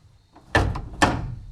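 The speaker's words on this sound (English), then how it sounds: "That door is loose." A loose truck door shuts twice in quick succession, each a heavy, close thunk with a short rattle afterward, over a quiet background.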